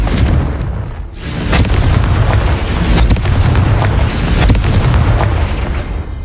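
Fiery spell blasts from the Confringo curse in Hogwarts Legacy, a near-continuous string of loud booming explosions over a rumbling low roar, with sharper bursts around the middle and end.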